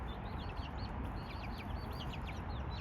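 Hens cluck in a backyard flock that includes a Polish breed hen, soft repeated chirps and clucks spread across a steady noisy outdoor background, moderately close, with no voices.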